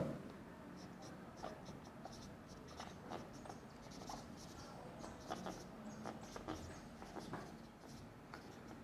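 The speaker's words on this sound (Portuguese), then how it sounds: "Deixe-me escrever o nome desse teorema." Chalk or pen writing out a theorem's name on a board during a mathematics lecture, a faint scratchy tapping of strokes in a steady patter over quiet room tone.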